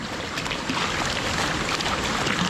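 Water rushes strongly through a mountain water line, giving a steady, dense broadband whoosh that grows slightly louder partway through, close and continuous with no talking.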